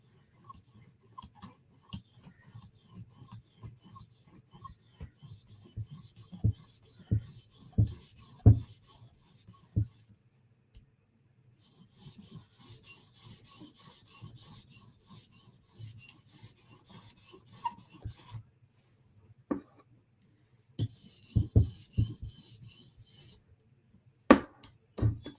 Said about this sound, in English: we're sharpening my Koenig Arius